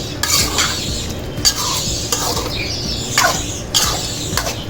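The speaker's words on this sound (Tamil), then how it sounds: "ரெண்டு கொத்து லெமன் ஊற்றிட்டு நல்லா கிண்டி விட்டுருங்க" Fried chicken curry being stirred in a pan after lemon juice is added, with steady scraping strokes and clinks of a utensil against metal over a continuous low sizzle, fairly close and with no talking.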